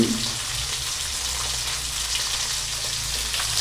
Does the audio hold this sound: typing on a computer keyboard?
no